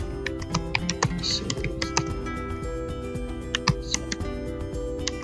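Product description text being typed on a computer keyboard for a WooCommerce product in WordPress: a steady run of close, crisp key clicks with irregular rhythm and a few louder taps, with no talking.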